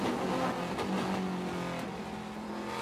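Onboard a TA2 Trans Am race car during a race at Sonoma, the engine drones loud and steady from close range, its harmonic tone rising and falling slightly with wind and road noise, no voices.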